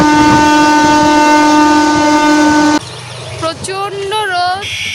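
Train pulling into a station on a hot day, a loud sustained horn blaring close by, then cutting off as rumbling and nearby people talking take over.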